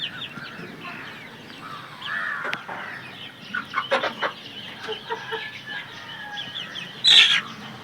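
Gramasree breed chickens and roosters on a poultry farm clucking and calling in scattered bursts, with one louder call near the end, some close and some farther off.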